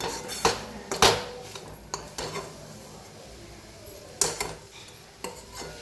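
A coconut mixture for narkel naru stirred in a wok, with a few sharp metal clinks of a spatula against the pan over a soft background hiss, close and moderately quiet, no voices.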